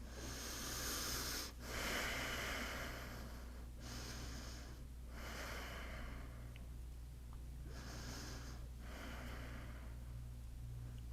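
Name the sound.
deep breathing during yoga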